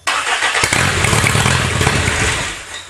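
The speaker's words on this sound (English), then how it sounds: "I'm just working a throttle" A Toyota engine from a tank project cold-starts in a motor pile behind a building, then holds a loud, steady roar with the throttle worked, close by and with no talk.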